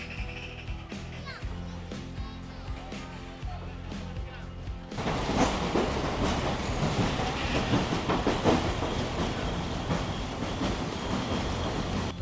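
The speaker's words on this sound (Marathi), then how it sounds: "आता जस्ट पनिक्युलर रेल्वे गेली आहे" A funicular railway train at Malanggad rolls past close by, a loud broadband rumble and clatter swelling in abruptly after quieter ambient sound and holding steady to the end.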